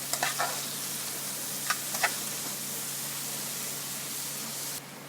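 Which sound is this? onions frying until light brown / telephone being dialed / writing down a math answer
onions frying until light brown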